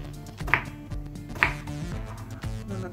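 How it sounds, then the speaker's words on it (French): A knife cuts a peeled purple eggplant into large quarters in a home kitchen. Two crisp chopping strikes land about a second apart over a soft, tonal musical background, with no talking. "je vais venir la découper en de gros quartiers comme ça"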